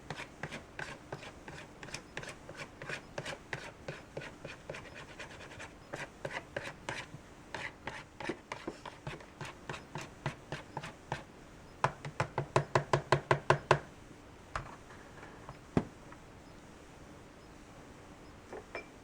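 A spatula scrapes the sides of a mixing bowl of pumpkin cheesecake batter, making a long run of quick, close scratchy strokes that grow into a brisk rapid burst before slowing to a few last scrapes.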